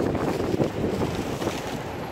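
Cold winter wind sweeps along a Manhattan street in New York, producing a continuous, dense rushing buffet close to the microphone with no clear voices.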